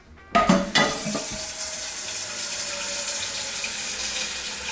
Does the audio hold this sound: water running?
yes